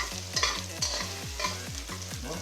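Ginger fries in rendered pork oil with a steady sizzle as it is stirred. A low hum runs underneath, broken by repeated swishing scrapes of the utensil roughly every third of a second.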